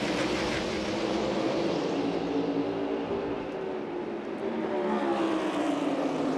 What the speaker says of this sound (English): Into the restart zone, the engines come to full song, and the green flag waves again.